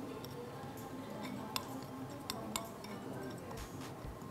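Whole spices are mixed together in a bowl, making faint, scattered dry ticks and clinks with a few sharper taps. The sound is quiet and close, with no voices.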